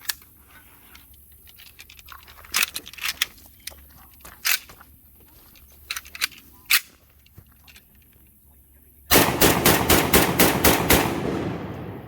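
AK rifle fired with a makeshift ink pen disconnector spring, a close, loud rapid burst of about eight shots after scattered handling clicks and rattles.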